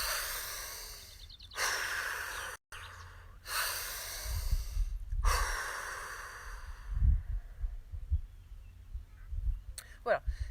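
During a morning breathing exercise outdoors in the sun, slow, deep breaths are drawn in and let out. The airy inhales and exhales come close and soft, in several long waves separated by short pauses.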